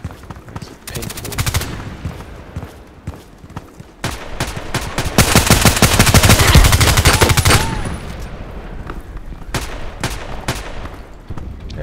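Rapid single shots from an MK14 EBR rifle in the shooter game Contract Wars crack out in quick strings, building to a dense loud volley in the middle, then sparser shots with a voice talking quietly beneath.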